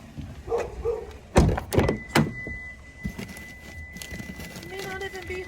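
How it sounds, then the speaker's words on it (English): A car door shuts with a couple of solid thunks in quick succession. Voices are heard around it, followed by a faint engine or motor tone. "Shut the door."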